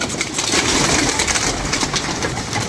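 A flock of pigeons from Lahore gives off continuous cooing and fluttering noise, fairly loud and close, with scraping textures throughout and no speech.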